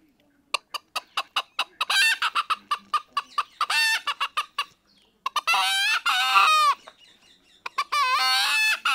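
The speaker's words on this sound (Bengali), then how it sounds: "এখানে একটা মোরগ রাখা আছে" A rooster clucks in a quick run of sharp, evenly spaced calls, then breaks into loud, drawn-out crowing bursts, heard up close with pauses between the phrases.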